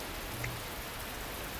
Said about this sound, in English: The drizzle that had become a little after midnight was just picking up into steady heavy rain as I left the house.